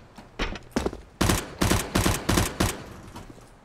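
Rapid gunfire in the video game CS:GO: a few separate shots, then a tight burst of about six loud, evenly spaced cracks, close and punchy, with no talk over them.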